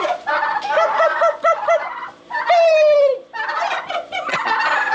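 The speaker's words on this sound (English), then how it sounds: "Turkeys! Look at these big babies in here, growing so fast." Several turkeys gobble in rapid bursts, loud and close, one call after another with brief pauses between.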